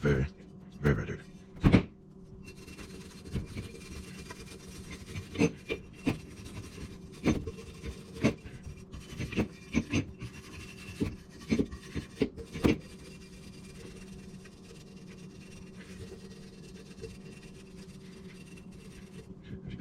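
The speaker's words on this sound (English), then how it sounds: "Give her a good scrub." A very dirty part scrubbed clean with a brush during cleaning and lubrication, giving bursts of close, scratchy rubbing strokes in irregular runs over a quiet background.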